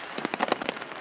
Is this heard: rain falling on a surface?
yes